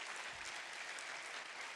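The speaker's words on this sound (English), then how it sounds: "Let's clap for Jesus." A church congregation claps together in a steady, dense patter of hands, fairly faint and heard alone for a brief moment.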